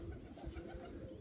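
A young pigeon, about four months old, coos softly in a pigeon loft, a faint, steady murmur set against low background noise.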